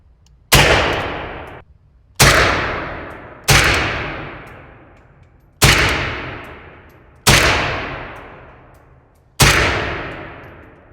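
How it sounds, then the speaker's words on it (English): Six separate sharp rifle shots from an AK-20 fired in select fire at a range, each loud crack trailing off in a ringing echo, spaced about one to two seconds apart. "So we were just shooting in the select fire."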